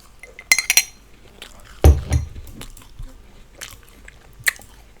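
Crunchy biting and chewing on a spicy snack similar to hot Cheetos, a few sharp crisp bites followed by quieter munching and light clinks, close up with no talk.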